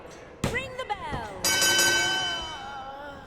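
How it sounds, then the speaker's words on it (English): Boxing ring bell in a wrestling video game, a few quick metallic dings followed by one loud ringing strike that sustains and slowly fades, alone with no talk. "ring the bell"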